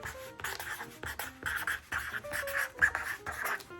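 Pen strokes scratching across paper as a word is written out, in short, uneven bursts of scribbling separated by brief pauses, close and clear with no talk.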